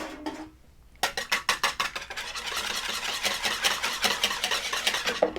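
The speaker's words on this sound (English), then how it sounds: "So I want to whisk that" An egg is whisked briskly in a bowl for cinnamon roll soda bread, rapid rhythmic clinking strokes starting after a brief pause and continuing close and steady to the end.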